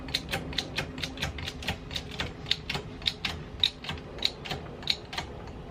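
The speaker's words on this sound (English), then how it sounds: "Okay, now I'm going to start jacking it up." Motorcycle jack rack being pumped up with an Alta Redshift SM electric motorcycle on it, heard as a steady series of sharp ratcheting clicks at an even pace, close up and without talk.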